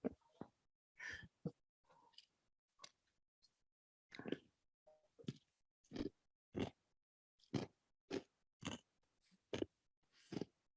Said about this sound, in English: I'm sure the people on the other end are hearing me crunch, crunch, crunch